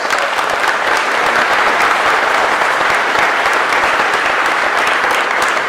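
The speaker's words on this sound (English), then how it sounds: "I think that deserves a huge round of applause" Loud, sustained applause from a large crowd at a public officials' meeting in Chillicothe, dense and continuous throughout with no pauses.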